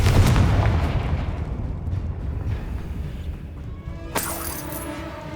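Confringo explosive spell in the video game Hogwarts Legacy: a loud booming blast that rumbles away over a few seconds, followed by a sharp crackling burst with a ringing tail.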